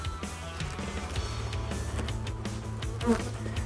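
Honey bees buzzing during a beehive inspection, a close, continuous droning hum of many insects with a few louder passes as individual bees fly near.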